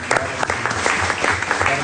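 A church congregation applauds at the close of a prayer, a dense burst of many hands clapping with voices mixed in beneath it.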